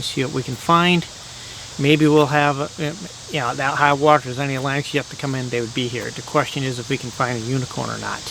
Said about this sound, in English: You can hear the cicadas screaming in the background.